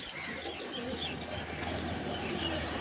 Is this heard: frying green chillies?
no